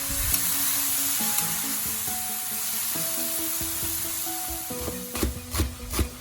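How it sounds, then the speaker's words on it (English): Sliced mushrooms sizzle steadily in a hot kadai, a continuous frying hiss with a few brief clinks and scrapes of stirring near the end, under a faint background tone. "Add the sliced mushrooms into the kadai and let it cook."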